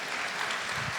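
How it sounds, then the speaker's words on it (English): Brief burst of audience applause at a political talk event, a dense wash of clapping filling the whole second with no speech over it. "You can clap for that."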